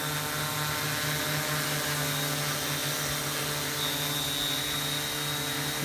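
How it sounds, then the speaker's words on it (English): MP680Q drone flying overhead, a steady close rotor whine with tonal hum bands holding constant throughout, loud and continuous with no talk. "Follow the drone forward,"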